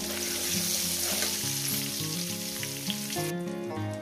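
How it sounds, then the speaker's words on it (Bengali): A large radish frying in oil in a pan for chicken curry, a dense, steady close sizzle that holds at even loudness throughout, with background music running underneath and no talking. "আমি এখানে একটা বড় সাইজের মূলো দিব, দিয়ে এটাকে ভেজে নেব।"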